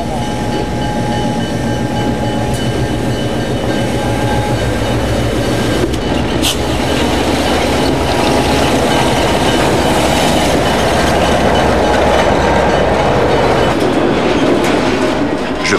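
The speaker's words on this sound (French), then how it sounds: "J'arrive en gare de triage." Trains rolling through a rail marshalling yard, with a loud continuous rumble of wagons, steady clickety-clack of wheels over rail joints and occasional high wheel squeals, close and unbroken throughout.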